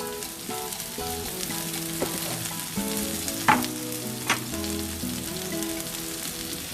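A South Indian curry with coconut milk, curry leaves and kasuri methi is stirred in a pan, with a steady close sizzle, soft spoon scrapes throughout and two sharper clinks against the pan.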